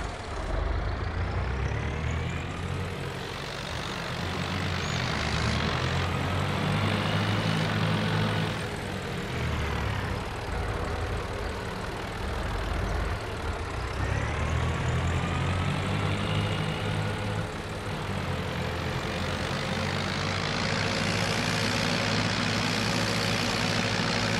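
Tractor engine with a changed exhaust in the Farming Simulator 22 video game, a loud continuous droning roar that swells and dips over about twenty-four seconds, with no talk.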